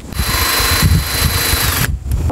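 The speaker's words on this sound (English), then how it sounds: "I just prefer the hole saw because it's a nice clean hole" A power drill turns a hole saw that cuts through a glass ceiling fan light shade, giving a loud, close, grinding whir that runs for about two seconds before it briefly drops off.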